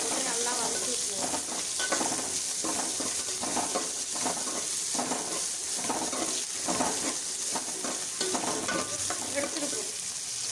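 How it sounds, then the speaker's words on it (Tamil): Onions sautéing in a pan for a goat intestine curry, a dense, loud sizzle with rhythmic scraping as the pieces are stirred, close and continuous throughout. "வெங்காயத்தை போட்டு நல்லா வதக்கி விட்டுருவோம்."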